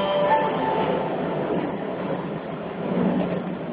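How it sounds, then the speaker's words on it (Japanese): A Keihan rapid limited express train bound for Demachiyanagi heard from inside the carriage, a steady rolling rumble and rushing noise that holds at a constant loud level throughout. "この電車は快速特急出町柳行きです。"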